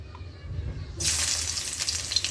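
Beef tripe hits a small amount of hot oil in a pan, and after a quiet moment a loud, steady sizzle and crackle of frying breaks out and continues close by.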